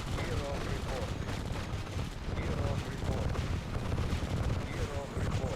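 In a strategy video game battle, snipers fire on flak troopers amid a dense, continuous barrage of gunshots and booming impacts that rolls on steadily at moderate volume without a break.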